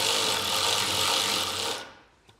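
A ratchet with a 13 mm socket tightens a ground wire bolt during a trailer hitch install, a close, loud, continuous rapid clicking that stops abruptly near the end.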